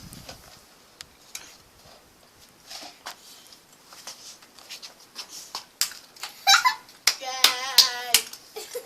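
A 2-year-old toddler claps small hands at home: sparse, uneven sharp claps early on, growing into a louder flurry near the end, mixed with an adult's and a voices talking and squealing.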